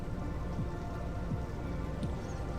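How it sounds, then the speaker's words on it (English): Light rain patters steadily on surfaces at an island campsite on Cherokee Lake, Tennessee, a soft, constant hiss at low level with no voices. "It's kind of raining on and off."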